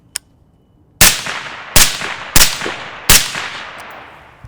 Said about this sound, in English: I'm gonna shoot a couple now with the magnifier and just get a feel for the clarity a little bit more.